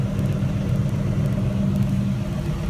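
A John Deere mower runs with its power takeoff engaged and the shaft spinning, producing a steady close whirring engine drone with a low rumble and no voices.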